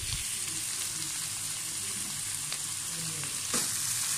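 Egg fried rice stir-fried in a hot pan with salt and chicken powder, giving a steady, dense sizzle with occasional sharp scrapes and clinks from the spatula, fairly close and continuous.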